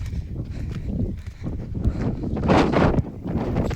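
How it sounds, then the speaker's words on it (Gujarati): Breeze blowing across an open hilltop on the stone-stair trek up to Sankaleshwari Mataji Temple in Gujarat, a steady rumbling gust on the microphone that swells louder near the end, with no talking. "હવે એટલો પવન આવે ને ગરમી એકદમ દૂર થઈ જાય."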